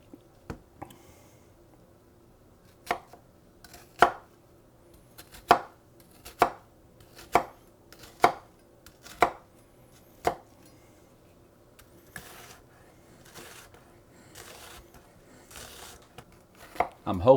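A knife chops a Spanish or yellow onion on a cutting board in a slow, regular series of sharp, close thunks, followed by a few quicker, softer cuts near the end. No talking.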